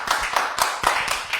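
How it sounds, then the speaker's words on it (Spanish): An audience claps for a guest speaker at a live event, a short burst of steady rhythmic hand claps from a small nearby group. "Por favor, démosle un aplauso a Hervey Fonseca."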